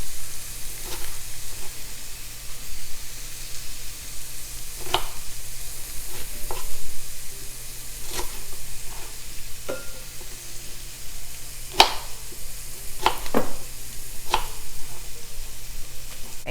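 Chopped onion sautéing in an oiled pan for a creamy Brussels sprouts and bacon side dish, a steady close sizzle broken by sharp stirring scrapes and knocks every second or two.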